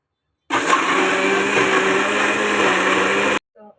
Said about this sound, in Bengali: এখন আমি ব্লেন্ডারে দিয়ে দিব।